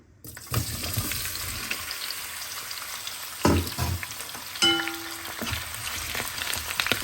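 Potatoes dropped into hot oil in a pan, sizzling steadily with a few louder bursts and clatters of handling, moderately close, no talk.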